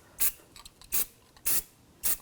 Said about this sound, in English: I'm just going to use some anti-seize spray.